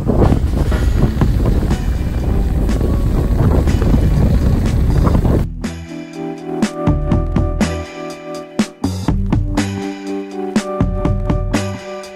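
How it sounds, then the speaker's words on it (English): A sailboat under way at sea in the tradewinds, heading 150 nautical miles back to Port Vila: steady wind buffeting and rushing water for several seconds, then a sharp cut to louder, broken gusting and knocks nearby. "it was time to sail 150 nautical miles back to Port Vila"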